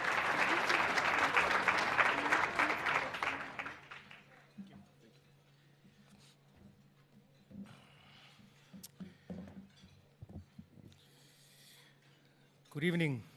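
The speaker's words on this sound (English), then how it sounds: "A round of applause as welcome him" An audience at a mathematics and science awards ceremony claps warmly to welcome a speaker, a dense round that fades out after a few seconds, followed by quiet shuffling, mic handling and scattered small noises.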